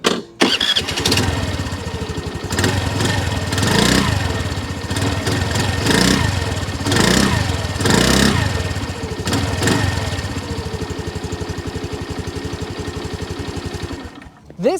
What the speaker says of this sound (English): if you want to hear what the 2023 Honda NAVi sounds like